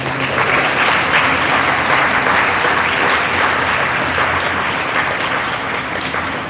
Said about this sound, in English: So I think they deserve another round of applause.